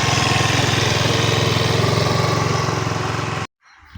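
A motorcycle engine running with a steady, buzzing mid-range drone that stays loud and even for several seconds, then cuts out abruptly into near silence.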